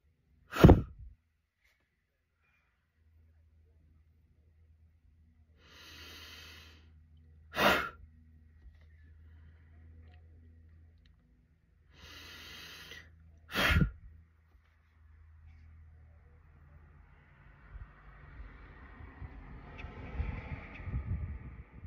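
A person blows three strong breaths from the throat, each a sharp, close burst separated by quiet pauses of several seconds, with soft rustling and faint breathing building at the end.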